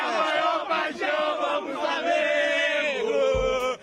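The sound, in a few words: Flamengo fans cheering as the team arrives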